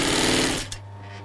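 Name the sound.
sewing machine stitching a handbag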